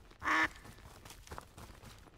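A loud duck quack from the survival video game Duckside, one short honking call up close, followed by quieter background game sounds.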